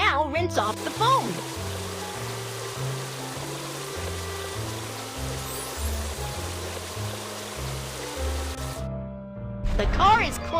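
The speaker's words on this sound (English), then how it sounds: "Now rinse off the foam." In a Baby Bus car-wash video game, a water spray rinses foam off a bus with a continuous rushing hiss beneath looping cartoon music, ending in a brief gap followed by a short chime.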